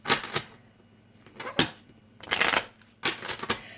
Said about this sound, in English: I'm going to do a good shuffle here.